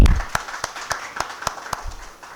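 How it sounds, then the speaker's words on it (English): Audience at a business seminar on exporting to Africa giving a sparse round of applause: separate sharp claps at a moderate, irregular pace, fairly faint, fading out near the end. "deserve for the big round of applause"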